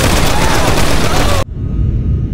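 Burst of heavy gunfire in GTA 5, loud and dense for over a second and then cutting off abruptly, with quieter noise and faint low rumble continuing afterward.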